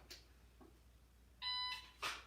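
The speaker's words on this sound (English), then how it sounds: "there's going to be 2 beeps, which will be the 2-second par time" A single sharp electronic shot timer beep rings out, followed by a short burst, over quiet background with a couple of faint clicks beforehand, during dry-fire practice.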